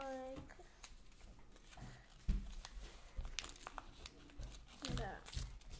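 Paper creased and folded into an origami bird, crinkling and rustling close by in short handling bursts while a person talks over it.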